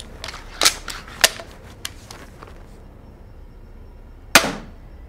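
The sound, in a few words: EK Adder crossbow shots at 130 pounds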